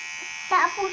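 Electric hair clippers buzzing steadily while cutting a child's hair, a continuous close whine that carries on under a voice in the second half.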